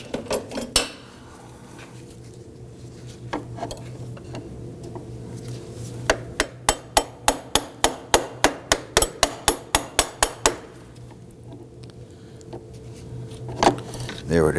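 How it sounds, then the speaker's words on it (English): A rapid run of about fifteen sharp metallic hammer taps, evenly spaced, while removing a variable valve timing solenoid on a 2005-2009 Subaru Legacy, with a few scattered taps before and after and faint talk around them. "give it a little tap with a hammer"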